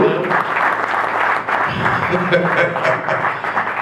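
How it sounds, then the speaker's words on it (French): Audience applause at a church gathering in South Africa, steady dense clapping that fills the whole stretch, loud and close, with a voice speaking over it partway through. "once again, put our hands together"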